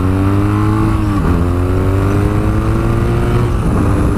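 BMW R nineT boxer twin motorcycle from 2018, a big-capacity engine, revving up close and loud, with a steady low drone and harmonic bands that sweep up and down as the throttle is worked.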